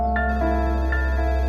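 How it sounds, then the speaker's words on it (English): A telephone rings loudly and close, giving two clear electronic rings in quick succession with no one speaking. "The phone rang"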